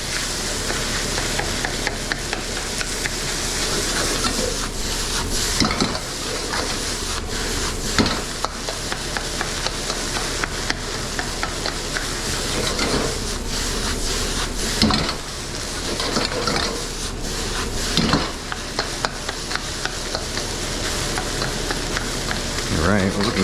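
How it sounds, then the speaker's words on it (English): Fried rice with egg being stir-fried in a pan, a loud continuous sizzle broken by repeated scraping and tossing strokes of a utensil against the pan, with a few metal knocks, close up. "Just gonna kind of cook around the rice. Break up that egg a little bit."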